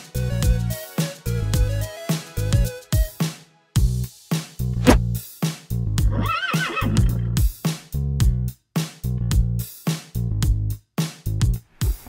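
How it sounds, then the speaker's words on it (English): A horse at a campground neighs repeatedly in loud, close whinnies, each call a rising and falling trill separated by brief silences. "Let's go get ready to ride a horse now."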